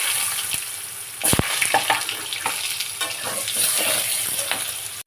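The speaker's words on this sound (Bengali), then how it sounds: "লঙ্কা দিলাম, একটু জিরে দিলাম, তারপর নিয়ে আলু দিলাম।" Potatoes sizzle loudly in hot oil with chilli and cumin, a continuous close frying hiss broken by sharp clanks and scrapes of stirring in the pan.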